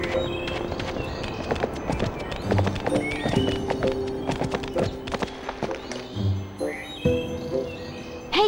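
A foal in the Barbie Horse Adventure video game clip-clops along at a walk with repeated hoof beats, breaking into a couple of high whinnies, while birds chirp faintly in the background.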